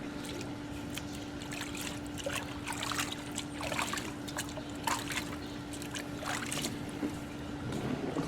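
Running water rinsing diatomaceous earth residue from a backyard pool filter area, a soft steady trickle and splash with a constant hum underneath, faint and fairly close, no voices.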